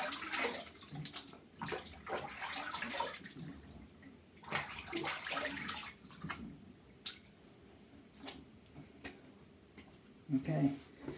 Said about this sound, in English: Splash your face off.